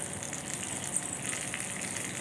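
Spices, asafoetida, dried red chili and curry leaves, sizzle in a small miniature-kitchen pan while tempering for thuthuvalai rasam, a steady soft hiss that holds faintly and evenly throughout.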